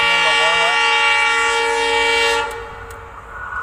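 A train in the Gibbon Wildlife Sanctuary sounds a loud, sustained horn blast up close, then the horn stops and the rumble of the passing cars fades to a lower, rougher roar.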